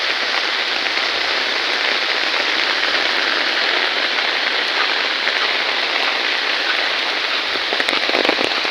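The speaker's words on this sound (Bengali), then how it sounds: "কতটা কঠিন বৃষ্টি ছিল আর খাড়া ছিল" Heavy rain pours down steadily, a dense, loud, unbroken roar of drops hammering surfaces for the whole stretch, with no voices.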